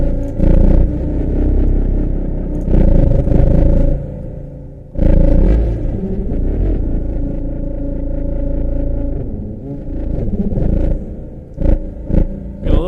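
Waves Flow Motion software synth played with heavy reverb, a dense, distorted, rumbling patch with swelling sustained tones and abrupt cutoffs, washing out in long reverberant tails across the whole passage.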